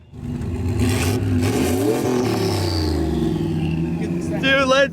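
Engine of a mini wrecker truck revving hard, a buzzy rising and falling drone with clattering, while a person shouts over it.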